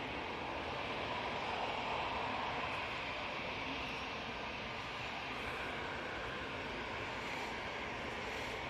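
An airliner taking off from Manchester Airport gives a steady, broad jet roar that stays at a constant level from a distance without any clear rise or fade.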